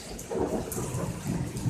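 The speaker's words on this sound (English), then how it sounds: "See the thunder." Thunder rumbling during a tornado storm, a low rolling boom heard from a distance under steady rain, faint and continuous.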